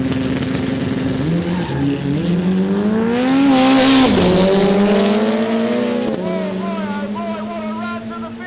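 A Holden Gemini and a Toyota MR2 race at a street drag day, engines roaring loudly as they rev and climb through gears, with rising and falling pitch sweeps and a brief tire squeal.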